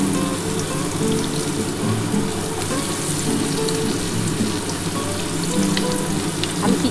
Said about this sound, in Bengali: আর কিছুটা পেঁয়াজ আমি ভেজে নিচ্ছি